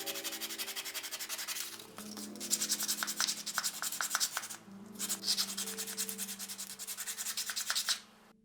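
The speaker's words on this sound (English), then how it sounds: "when they dry, those templates are sanded to be smooth and even" Steady rubbing of sandpaper over dried, glue-soaked cloth templates for a porcelain doll's shoes, in repeated close strokes with two short pauses near the middle.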